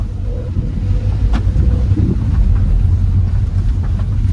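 A used car on a test drive at a car auction in Mysuru, heard from inside as a loud, steady low road-and-engine rumble with buffeting wind noise and no talk.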